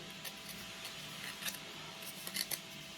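Scissors snip through a paper lisianthus petal in a quiet room, a few sharp, close cuts clustered around the middle and end of the stretch.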